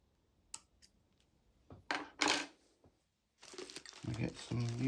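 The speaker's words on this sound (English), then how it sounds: "We get our scissors and we snip." Sharp scissor snips cutting thread while tying a Steelers midge fly, a few crisp close cuts and crinkles with quiet gaps, followed by louder rustling handling noise.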